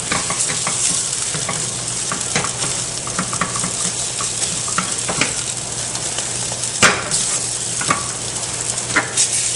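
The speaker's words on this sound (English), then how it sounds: "I'm just going to break the yolks and stir these like crazy." Eggs with broken yolks are stirred vigorously in a hot frying pan for a veggie scramble, giving a steady sizzle under repeated scraping and clicking of the utensil against the pan, close and alone.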